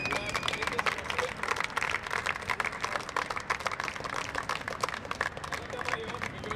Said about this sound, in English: a big round of applause to all the scorekeepers and umpires who have made this possible